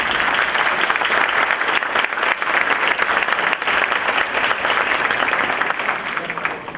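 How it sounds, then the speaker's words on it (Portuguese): Audience at a lecture on International Volunteer Day applauding volunteers, a loud, continuous burst of many hands clapping that holds steady for several seconds with a crowd murmur underneath. "Palmas para esse povo."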